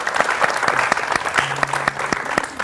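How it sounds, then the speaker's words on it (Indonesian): Studio audience applauding the crew of a TVRI Islamic television programme, a steady dense clatter of many hands held at an even level throughout, with a few faint voices mixed in. "Tepuk tangan dulu untuk kru TVRI."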